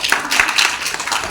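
A church congregation claps during a devotional hymn and preaching program, giving a brief burst of dense, fairly loud applause.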